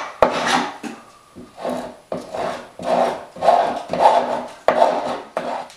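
Metal scraper pushing heated gloss paint off a wooden door frame in about eight close, rasping strokes with short pauses, each a scratchy rub against the wood.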